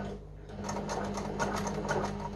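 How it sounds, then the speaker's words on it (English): A sewing machine stitches slowly over thin internal wiring for a Quad 405 power amplifier, its needle tapping in a quick, even rhythm close by after a brief quiet start. "we don't want the needle of the sewing machine to puncture the wire"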